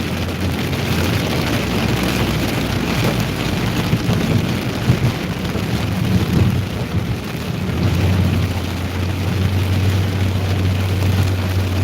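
A severe thunderstorm during a spring weather outbreak across Illinois, Missouri, Tennessee and Mississippi, with steady heavy rain and deep rolling thunder rumbling continuously, loud and close throughout.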